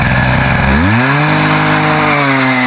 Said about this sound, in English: So now we use a gas auger to drill through at least 30 inches of ice